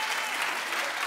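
A brief, steady burst of audience clapping on a talk show, even and continuous with no pauses, heard alone without talk.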